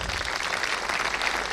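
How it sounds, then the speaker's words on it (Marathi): Loud, dense clapping from a convocation audience applauding graduates, a steady crowd ovation filling the whole moment without pause. "त्यांच्यासाठी एकदा जोरात टाळ्या वाजवा."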